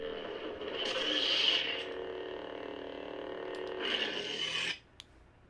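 A lightsaber replica's broken ignition effect, a gritty crackling hum that swells, holds unevenly for about four seconds and cuts off sharply, followed by a small click, with nobody speaking.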